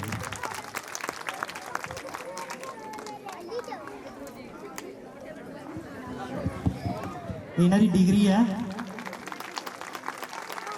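Applause at an annual school function for young children promoted to the next class, arriving as a brief burst of clapping near the end, with someone talking over a chattering crowd before and after.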